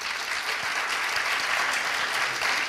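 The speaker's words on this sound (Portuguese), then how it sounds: "salva de palmas para ela." Sustained audience applause filling a public culture-management conference session in Brazil, a dense, steady wash of many hands clapping at even loudness throughout.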